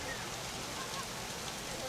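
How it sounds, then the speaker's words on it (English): Heavy rain mixed with small hail pounds down at an outdoor softball game, a dense, steady hiss and patter throughout, fairly loud with no clear gaps. "yeah, that's some big rain right there. I can see the little hail pieces."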